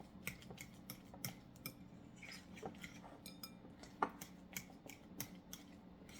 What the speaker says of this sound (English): So I just keep beating mine with a fork to get it really creamy.